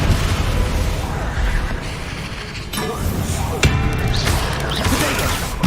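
Confringo and Bombarda spell blasts burst in quick succession during a Hogwarts Legacy fight, dense booming impacts and crashes layered over continuous game noise, with voices partly mixed in.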